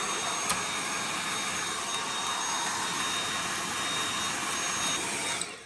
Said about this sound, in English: So we're going to take our vacuum